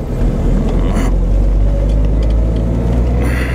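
A 1989 Alfa Romeo Graduate Spider rolls in under its own power, its engine a loud, close, steady rumble that holds without a break throughout.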